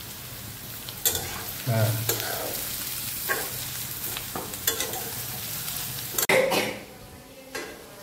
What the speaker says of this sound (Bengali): প্রথমে গাজরটা তেলে ভেজে নেওয়া হচ্ছে